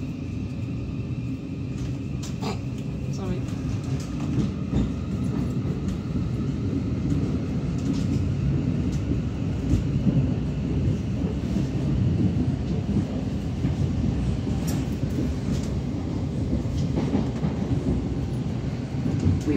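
Steady low rumble and rattling of a Great Northern Class 717 train running from Finsbury Park to Moorgate, heard from inside the carriage, continuous with faint clatter and no voices.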